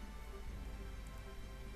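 Rain in the video game Tales of Vesperia, a faint, steady hiss of falling rain with no voices, brief and continuous.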